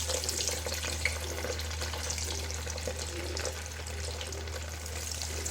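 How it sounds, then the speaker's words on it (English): Rendered beef fat bubbling and sizzling in a pot over a gas flame, a steady close hiss with a low hum underneath and no voices. "So I'm going to leave these sit for a little bit and bubble before I add the next lot"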